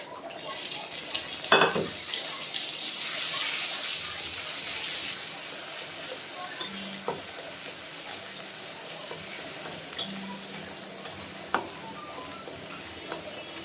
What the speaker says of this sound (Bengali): একটু ফোড়নে কালো জিরে দিয়ে দিল তো বন্ধুরা বাটাটা এখন দিয়ে দিলাম